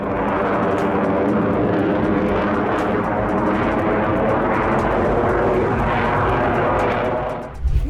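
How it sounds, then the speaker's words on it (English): A loud, steady roar of an F-22 Raptor fighter jet flying, continuous broadband engine noise that fades slightly at the very end. "The F-22 Raptor is supremely confident against any aerial opponent"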